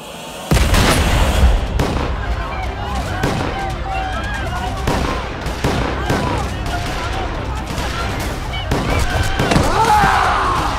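Loud gunfire erupts during an attack in a drama scene, with rapid overlapping shots and booms cracking in bursts for several seconds while voices shout through the volley.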